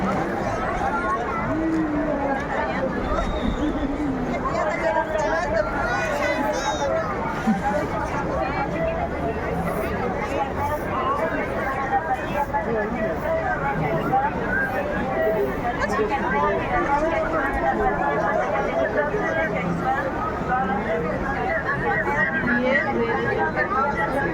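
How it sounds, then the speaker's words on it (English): A dense Halloween street crowd in La Paz, Bolivia fills the air with constant overlapping chatter and babble. The voices are steady throughout with no pauses. "This is like a never-ending crowd."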